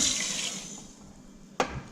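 Water poured onto sugar in a pan to make syrup for sooji and besan halwa, a steady wash of running liquid fading slowly, then a sharp knock near the end.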